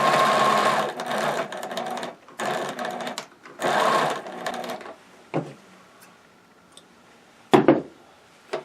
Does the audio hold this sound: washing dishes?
no